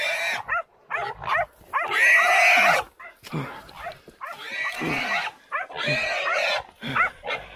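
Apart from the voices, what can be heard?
hunting dogs barking while catching a feral pig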